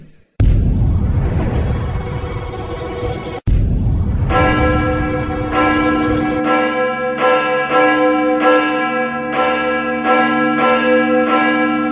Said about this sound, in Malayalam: പോയി പള്ളിമണി അടിക്ക്.